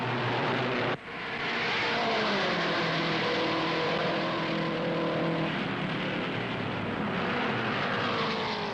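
Race cars at the 1961 Indianapolis 500 roar past in a continuous loud engine drone, with a sharp break and Doppler-like pitch sweeps as the cars go by at around 145 miles an hour, heard without speech.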